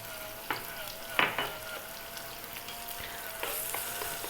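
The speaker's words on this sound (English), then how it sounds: "We're going to drop in that chopped onion." Chopped onion drops into hot oil over medium heat and fries with a soft, steady sizzle. A few clattering spoon or pan knocks sound early on, and the crackle swells slightly toward the end.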